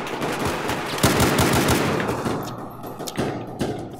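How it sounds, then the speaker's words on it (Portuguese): Video game gunfire in Battlefield 4, rapid bursts of automatic weapons and scattered shots cracking close and loud, dense at first and thinning into separate distant reports toward the end. "acho que tem tiro por aqui já"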